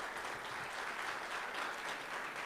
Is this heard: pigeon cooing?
no